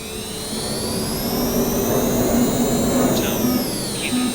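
Jet engine of a passenger aircraft at full takeoff power on the runway, a loud steady roar with a high whine, continuous and close throughout with no talking.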